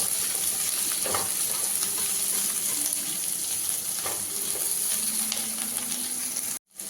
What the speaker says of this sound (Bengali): কাঁচা লঙ্কা আর এই কাজু বাদাম দিয়ে দেব। দিয়ে এটাকে একটু ভালো করে ভাজবো।